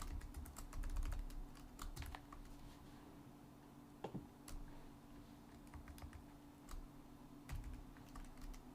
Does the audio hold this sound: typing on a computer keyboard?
yes